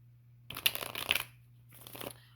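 A deck of tarot cards is shuffled up close in two quick riffling bursts, crisp and papery, separated by a short pause against a quiet low hum.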